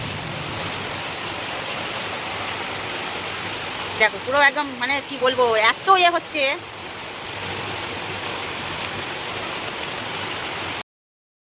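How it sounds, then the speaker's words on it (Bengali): Wind-driven storm rain by the Ganges pours as a steady loud broadband hiss, while a voice speaks briefly in the middle before the roar continues alone. "ওদিকে দেখতে পাচ্ছি বৃষ্টি তোরা কি সুন্দর মানে একদম হাওয়া দিয়ে উড়িয়ে নিয়ে চলে যাচ্ছে"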